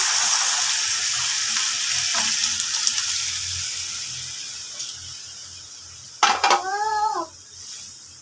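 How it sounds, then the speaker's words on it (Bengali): Boiled red lentils poured onto onion and spices frying in a pan with ginger, garlic and coriander, a steady sizzle that fades as they go in, followed by a brief clatter and a short voice. "পেঁয়াজের সাথে মশলাগুলো তো ভাজা হয়ে গেছে আমি এবার সিদ্ধ করে রাখা ডালটা দিয়ে দিচ্ছি"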